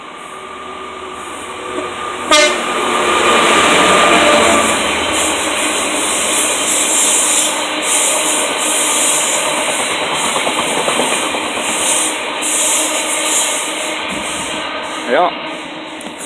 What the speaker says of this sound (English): Did you know it's a class 66, which is commonly colloquially known as a shed?